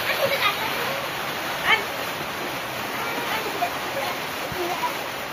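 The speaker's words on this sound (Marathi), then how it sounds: "तर मंडळी पाहू शकता पावसाचे आगमन झाले आहे." Heavy monsoon rain pouring down outdoors on a farm, a loud steady roaring hiss with a few brief louder splashes and knocks, and a dog may yelp faintly in the background.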